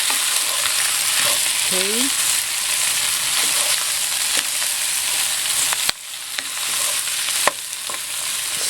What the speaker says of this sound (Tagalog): gisahin natin yung macaroni para ma-absorb ng macaroni yung lasa ng ginisa